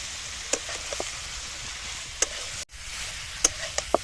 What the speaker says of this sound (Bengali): ঠ্যাংটা দিয়ে দিয়েছি মশলার মধ্যে, এবার ভালো করে একটু কষিয়ে নিতে হবে।